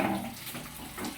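Water runs from a tap while plants are being watered, giving a short, steady hiss and splash at close range.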